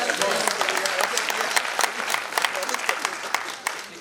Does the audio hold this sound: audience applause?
yes